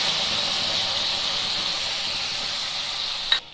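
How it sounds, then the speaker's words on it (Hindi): A spoonful of fenugreek seeds sizzles in leftover hot oil in a kadhai, a steady close hiss that runs unbroken for several seconds before a brief louder crackle near the end. "अभी मेरा जो तेल बचा है उसी में एक चम्मच मेथी डाल लें, मेथी चटक जाए"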